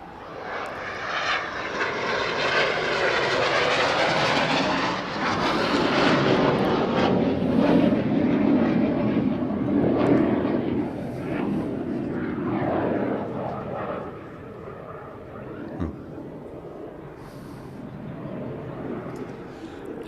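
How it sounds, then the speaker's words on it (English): A Yak propeller plane flies its display routine at the Paris Airshow, its engine droning loud and steady with rising and falling pitch as it manoeuvres, easing back toward the end, with faint commentary voices underneath. "you can see the Yak going through its display routine."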